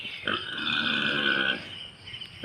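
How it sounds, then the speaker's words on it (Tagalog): A black pig grunts and snorts steadily for a couple of seconds just before a backyard butchering, the low rough sounds close and moderately loud. "Magkakate kami ng baboy. Itim na baboy, hindi puti na baboy."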